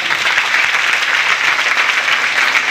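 An audience at a DXN business seminar in Bihar gives thunderous applause for its mentors, a dense, loud, unbroken wash of clapping from a large crowd.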